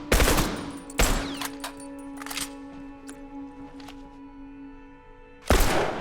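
Burst rifle fire in a first-person shooter game, with loud, close bursts of rapid shots at the start, near the one-second mark and at the end, and scattered single cracks and ringing tones between them.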